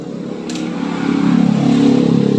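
A Honda Scoopy scooter with faulty lights, speedometer and horn starts on its electric starter after a brief click, its small engine catching and idling with a steady, close mid-pitched drone that rises slightly as it settles.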